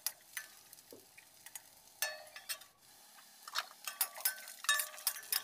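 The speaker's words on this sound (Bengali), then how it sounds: "পেঁয়াজটা আমার একটু ভাজা ভাজা করতে হবে, তার জন্য আমি নাড়ছিলাম ভালো করে।" A spoon scrapes and taps against a pan while onions fry for a fish curry, giving quiet, irregular clicks and scrapes over a faint sizzle, close and alone.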